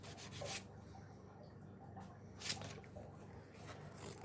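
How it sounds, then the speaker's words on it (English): Sandpaper rubbing off leftover paint from an old kitchen gadget being restored: soft, steady scratchy strokes with two brief louder swipes, close up and alone. "get some sandpaper and just get rid of the rest of the paint"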